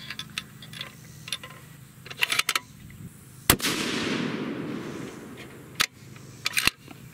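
A custom lightweight 7mm PRC rifle fires one loud, sharp shot outdoors, its blast followed by a long rolling echo that fades over several seconds, with scattered clicks and handling noises before and after.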